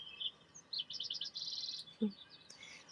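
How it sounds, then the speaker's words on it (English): Birds chirp and trill softly in the background outdoors, quick bursts of high tweets and a short warbling run, faint and alone with no voices. "We have birds as a resonance in the background."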